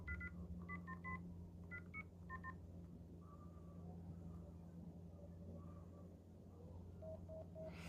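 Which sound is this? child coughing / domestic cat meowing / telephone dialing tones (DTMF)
telephone dialing tones (DTMF)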